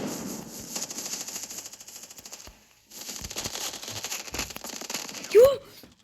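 Counter-Strike 1.6 gunfire in a 1vs1 match: rapid, crackling bursts of automatic shots run almost continuously, pausing briefly midway, then a sharper, louder shot near the end.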